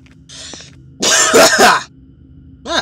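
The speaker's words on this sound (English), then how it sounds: "Finally, my coughing has a purpose!" A few sharp, close coughs in a quick burst, preceded by a softer throat sound and followed by another brief cough; no speech.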